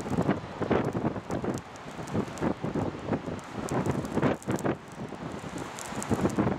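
Person gently blowing on a small, newly lit campfire outdoors, giving breathy gusts and rushing air mixed with crackling, close to the microphone and continuous.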